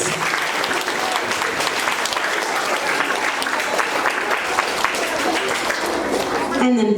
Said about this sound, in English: give them a big round of applause for being responsible students